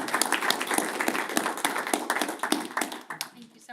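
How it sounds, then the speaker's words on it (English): A crowd applauds at a school board meeting with dense, lively clapping close by that tapers off toward the end, as a voice begins to speak. "massive round of applause to everybody"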